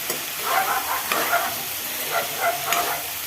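Brinjal pieces stirred through softened onions in a pan, giving a steady sizzle with four or five scraping stir strokes at a close, moderate level, no voices.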